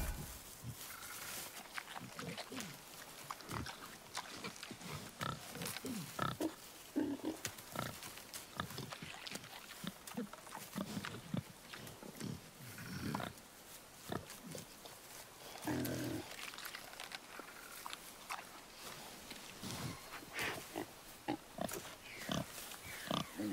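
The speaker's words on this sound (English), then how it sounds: "Wild boar's hide is thick." A wild boar in God of War grunts and snorts in repeated rough bursts, close up and fairly loud against quiet forest ambience, with brief speech mixed in.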